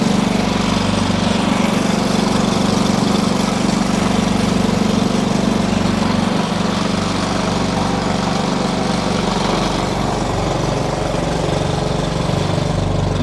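Dumpster delivery truck engine running loud and close while the hoist lowers a dumpster, a constant heavy rumbling drone with a steady mechanical whine and no voices.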